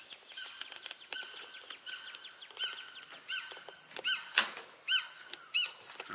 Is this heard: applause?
no